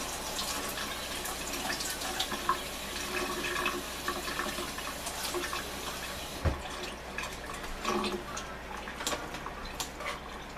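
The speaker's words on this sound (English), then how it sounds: "I'm going to rinse these real quick under cold water." Garlic greens get rinsed under cold running tap water, a steady splashing stream with drips and a brief clatter midway, close and continuous throughout.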